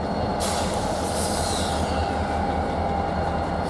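A CN freight train rumbles steadily past close by at a siding in St. Marys, with a high metallic wheel squeal rising over the low rolling noise.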